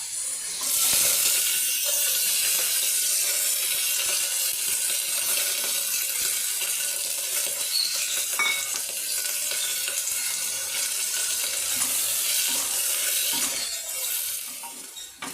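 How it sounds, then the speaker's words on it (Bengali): Chillies and onions frying in mustard oil for a spiced goat meat dish, a steady, loud hiss and crackle of sizzling that holds for about fifteen seconds, with faint stirring scrapes and no talk. "আমি সর্ষের তেল দিয়ে রান্নাটা করছি। লঙ্কা পেঁয়াজটা লাল করে নেব।"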